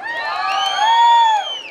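Spectators at a jaripeo let out a loud, swelling cheer, with high-pitched whoops and shouts from many voices rising to a peak before tapering off.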